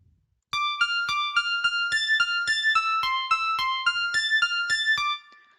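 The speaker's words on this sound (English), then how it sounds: "If we were to play it without effects, it would sound like this." A dry piano melody with no effects, played in music production software, steps through evenly spaced notes with crisp attacks. Each note ends quickly, with no reverb tail, and the piano plays alone after brief silence.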